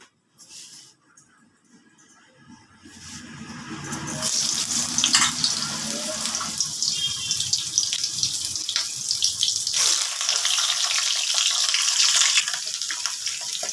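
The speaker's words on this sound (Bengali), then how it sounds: "এবার আমি পটলগুলোকে আগে ভেজে তুলে নিচ্ছি।" Pieces of pointed gourd (potol) hit hot oil in a wok with a steady, loud sizzling hiss that starts a few seconds in and carries on without a break.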